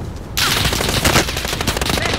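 Rapid automatic gunfire in Call of Duty: Modern Warfare, a dense, loud burst of rattling shots that kicks in after a brief quiet moment and keeps hammering steadily to the end.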